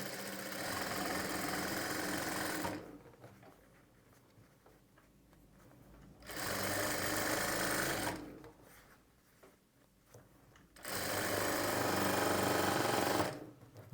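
A sewing machine stitches cloth while piping is made, running in three loud steady bursts separated by quiet pauses.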